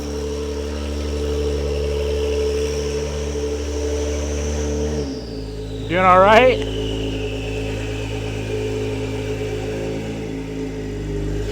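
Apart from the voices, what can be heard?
Honda NSX sports car pulling into garage, engine revving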